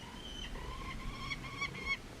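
A bird calls in the Utah desert with a few thin, honking notes, faint and spaced out over wind-like background noise, no voices over it.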